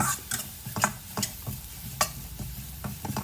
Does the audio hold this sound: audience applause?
no